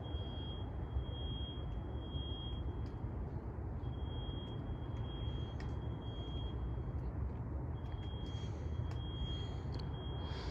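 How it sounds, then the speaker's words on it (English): A thin, high electronic tone beeps on and off repeatedly over steady low rumbling background noise during a night patrol on Halloween, persisting throughout. "why doesn't that beeping stop?"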